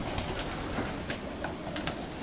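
Racing pigeons, including stock cocks, coo in a loft in KwaZulu-Natal, South Africa. The soft, intermittent calls are fairly faint and sit over a steady wash of background noise.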